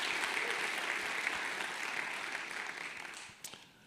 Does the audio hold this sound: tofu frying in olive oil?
no